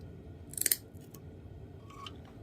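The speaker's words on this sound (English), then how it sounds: "we're going to cut the rope." Scissors snip through the pull rope of an Ariens snowblower with an older Tecumseh engine, a close quick crisp cut followed by faint handling sounds in a quiet room.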